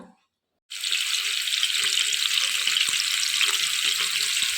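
Marinated chicken drops into hot oil and bursts into a loud, close, steady crackling sizzle after a brief silence, continuing evenly to the end.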